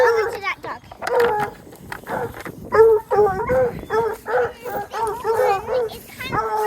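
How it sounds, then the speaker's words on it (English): Several farm dogs bark, yip and whine in short, repeated bursts, loud and close, with barely any pause between calls. "The dogs are really loud out here."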